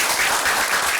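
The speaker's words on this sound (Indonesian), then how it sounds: "Aplaus dulu." A studio audience on a Bandung TV business talk show gives steady, even applause that fills the whole second, with no talking.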